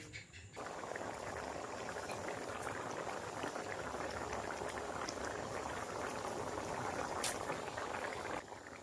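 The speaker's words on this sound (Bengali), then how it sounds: "এবার জলটা ফুটে গেছে ভালো করে" Water boils steadily in a pot of chicken ghugni, a dense, even bubbling hiss that holds at close range for several seconds.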